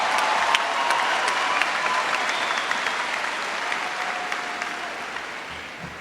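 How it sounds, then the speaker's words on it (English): Sustained applause from a large crowd at a university spring commencement ceremony, dense and steady throughout, with occasional sharp claps and faint cheers standing out. "Let's give a round of applause to all our graduating students."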